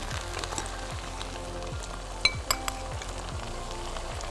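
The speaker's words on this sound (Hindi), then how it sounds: "कीमे को भूनेंगे हम।" Minced meat frying in a pan gives a soft, continuous sizzle with faint clinks of a utensil and a couple of sharper taps midway, fairly quiet throughout.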